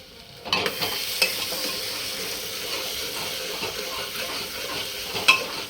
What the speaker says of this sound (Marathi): हे चांगलं वाटण कच्चं असल्यामुळं चांगलं तुपामध्ये परतून घ्यायचं